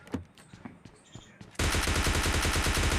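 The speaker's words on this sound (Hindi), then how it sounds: "तभी मुझे पीछे से एक गन चलाने की आवाज़ आती है" Gunfire in the mobile shooter PUBG Mobile Lite: a few faint clicks and taps first, then a sudden loud burst of rapid automatic fire that continues without a break to the end.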